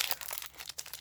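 A Magic: The Gathering Modern Horizons booster pack wrapper torn open, a quick run of faint, close crinkling and ripping foil sounds with no voice over it.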